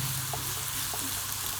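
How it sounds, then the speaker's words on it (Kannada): Ingredients for a chicken green curry sizzle steadily in a pan over a low flame. The frying hiss is close and even, with faint stirring, and no voices are heard. "ಇದನ್ನು ಕ್ಲೀನಾಗಿ ಫ್ರೈ ಮಾಡ್ಕೋಬೇಕು. ಈಗ ಲೋ ಫ್ಲೇಮಲ್ಲಿ ಇಡ್ತೀವಿ."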